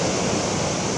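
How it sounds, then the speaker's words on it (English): Ocean waves break and wash steadily at a beach at sunrise, a dense continuous roar of surf close by with no voices. "And there are some waves."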